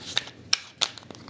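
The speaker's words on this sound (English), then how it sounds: "One more shuffle." A deck of tarot cards being shuffled by hand, with three or four quick crisp riffling bursts of card edges close to the microphone and no talk.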